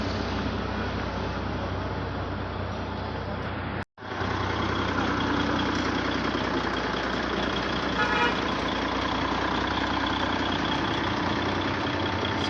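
An old engine idles near the Darjeeling railway station, giving a steady, dense rumble that runs for the whole stretch, broken only by one brief cut in the sound.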